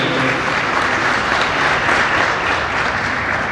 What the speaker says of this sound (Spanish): señora Susi Delgado, el señor Iván González, aplauso para ellos.